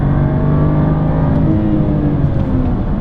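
A 2014 BMW 435i xDrive M Sport with a 3-liter twin-turbo engine accelerates onto a freeway, a steady loud drone with rising engine tone heard from inside throughout.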